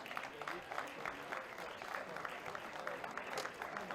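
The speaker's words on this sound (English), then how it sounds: "Let's make sure to keep the applause going all the way to the entry levels." Applause for the runners-up at a rugby presentation after a men's Scottish Plate final, sustained clapping from a crowd heard fairly faint and steady throughout.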